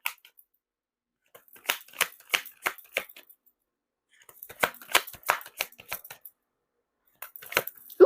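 Tarot cards shuffled by hand in quick crisp bursts of riffling and slapping, two longer runs separated by short pauses, close and clear with no talk.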